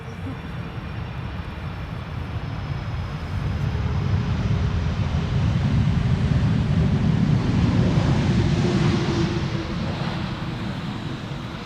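An Airbus A320 from Naples lands in a crosswind at Amsterdam Schiphol, a steady broadband engine roar swelling midway and holding loud and close, mixed with wind buffeting on the microphone.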